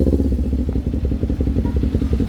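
Kawasaki Z400 motorcycle engine idling and revving after a backfire fix, a steady, loud, throbbing low rumble with rhythmic pulsing that runs throughout, close by.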